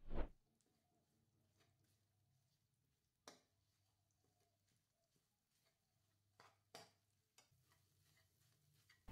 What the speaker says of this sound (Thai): น้ำมันร้อนใส่พริกแกงกะทิใต้ลงไปผัดให้หอม